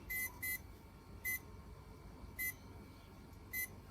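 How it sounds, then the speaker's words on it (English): A bench power supply with a safety cutout, running a round copper electrolysis cell, gives five short electronic beeps spaced irregularly over a low steady hum. "Now the beeping you can hear is actually the power supply."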